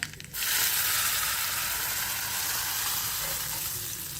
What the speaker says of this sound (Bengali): একটা তরকা প্যানে তেল নিয়ে দিয়ে দেব জিরে ফোড়ন